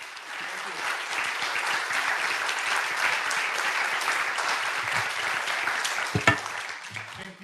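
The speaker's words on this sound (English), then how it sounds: "make a warm and vibrant cheering for Professor Frank" A lecture audience at an astrophysics day event applauds a professor being introduced, sustained dense clapping that fades out near the end.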